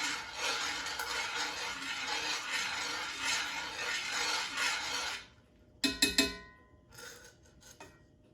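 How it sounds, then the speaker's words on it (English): Hot cooking oil for Wiener schnitzel is stirred in a pot, giving a steady, close rushing hiss for several seconds, followed by a few sharp metallic clinks and taps. "Let's give this a little stir, make sure we're even all around."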